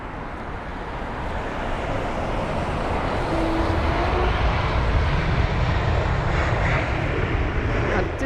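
A Lufthansa Airbus A320neo in the old livery, arriving at London Heathrow from Frankfurt, produces a broad, steady jet roar that swells slightly as it nears. The sound is continuous and moderately loud, with no speech over it.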